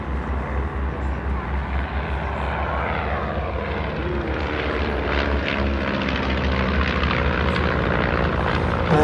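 A WW2-era propeller trainer aircraft flies at the Temora airshow, its steady engine drone loud and continuous throughout, with a broad roar that builds slightly toward the end.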